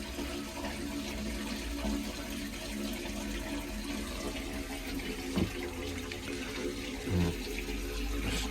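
Water rushes steadily out of a pond filter sieve through an opened bottom gate valve, a continuous close gushing drain with a couple of brief knocks.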